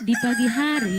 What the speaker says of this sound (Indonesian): terdengar suara ayam berkokok yang membangunkan seorang anak